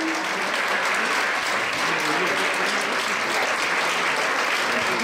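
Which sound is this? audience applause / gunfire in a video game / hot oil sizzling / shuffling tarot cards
audience applause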